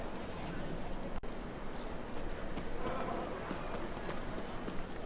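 Galloping horse hooves in the video game The Witcher 3, a steady, continuous clip-clop rhythm that runs the whole time under ambient game sound, with one sharp transient early on.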